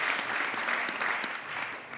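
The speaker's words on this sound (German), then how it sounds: "Ich glaube, das verdient auch einen großen Applaus" Audience applause at a disability sports conference panel in Vienna, continuous clapping with individual sharp claps standing out from the crowd, fairly close and steady throughout.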